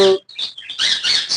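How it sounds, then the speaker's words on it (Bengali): A talking parakeet gives a quick run of shrill, raspy chirping calls in short bursts, close and fairly loud, with no voices. "আমার সেই কথা বলা টিয়া পাখিটি অনেক সুন্দর ডাকে"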